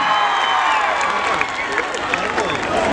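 A crowd at a live comedy show in Osmanabad applauds and cheers for a singer, a dense, loud roar of clapping and voices with scattered whoops over continuous crowd noise.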